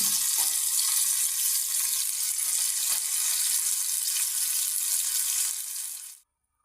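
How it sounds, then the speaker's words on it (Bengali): Fish frying in a pan gives a loud, steady hiss of sizzling oil that holds evenly close by, then stops abruptly near the end. "মাছ ভাজি দিয়ে দিলাম"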